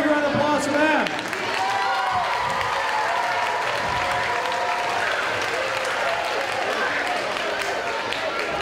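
Applause for teachers at a school district event in a gym, broad clapping mixed with crowd chatter and cheers, a voice rising over it early on, continuing steadily throughout.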